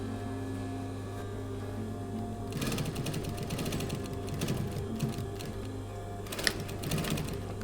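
Sewing machine running a contrasting black seam finish on a striped shirt fabric, starting with a quick mechanical burst of stitching after a low room hum, then chattering on steadily close by with small pauses.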